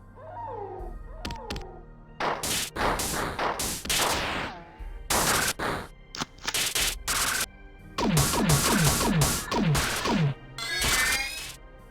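Guns fire in the video game Marathon in rapid bursts of loud, sharp cracks, some grouped in quick rhythmic volleys, with a few odd warbling and chirping effects between the shots.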